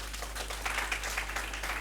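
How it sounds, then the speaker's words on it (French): Audience clapping for a contestant at a French-speaking high school competition, a brief steady patter of many hands at moderate distance over a low hum. "On applaudit pour elle, s'il vous plaît."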